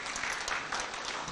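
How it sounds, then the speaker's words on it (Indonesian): An audience at a Parmusi working meeting in Jakarta gives brief, dense applause for Bu Fahira, a steady wash of clapping heard from a distance. "Boleh tepuk tangan untuk Bu Fahira."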